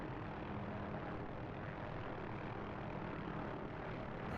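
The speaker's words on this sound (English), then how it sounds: "this is very much old school helicopter flying." A simulated OH-6A light helicopter in DCS gives a steady, dense broadband turbine and rotor roar, constant and unbroken, with no talk over it.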